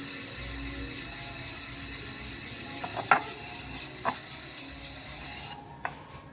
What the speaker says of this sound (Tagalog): Bumili ka lang ng liha, lihahin mo.